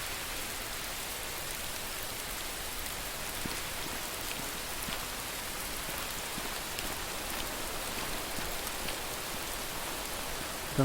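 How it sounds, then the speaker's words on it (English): Heavy rain in the video game Rising World, a steady, dense hiss of downpour that stays loud and unbroken throughout, with no voices. "Well, this is heavy rain."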